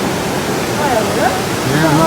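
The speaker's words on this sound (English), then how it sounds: "Here back at the wooden bridge where this sluice is, where there's fast water" Fast water rushes through a sluice by a wooden bridge at Lake Thun, a steady broad roar, with faint voices and other sounds drifting over it.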